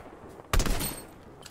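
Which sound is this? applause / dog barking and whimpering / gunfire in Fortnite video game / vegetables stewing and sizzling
gunfire in Fortnite video game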